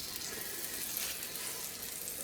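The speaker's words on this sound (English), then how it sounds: "ooh, I like to hear that sizzle" Steak and shrimp sizzle steadily in a hot pan, giving a continuous crackling hiss with faint pops, at moderate volume and without voices.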